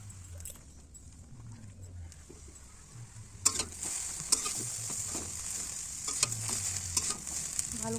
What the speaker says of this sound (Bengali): ভালো করে আমি ভেজে নিচ্ছি।